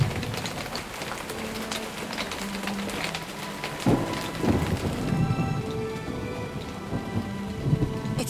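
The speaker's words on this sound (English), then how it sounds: "it's raining heavily" Heavy rain pours steadily on surfaces, dense and loud, with deep rolls of thunder rumbling through it and a sharper crack near the middle.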